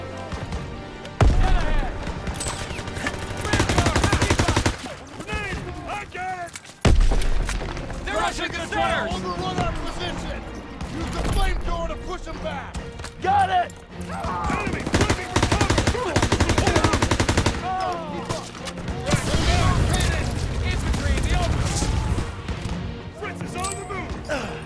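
Gunfire from the World War II shooter game Call of Duty WWII, dense bursts of rifle and machine-gun shots running almost continuously, with a few short breaks, mixed with battlefield clamor and shouted talk.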